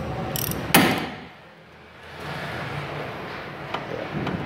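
A large ratchet wrench works loose a steering tie rod end. A sharp crack is followed by clicking mechanical ratcheting, with a brief quiet pause between bursts of close, gritty metal noise.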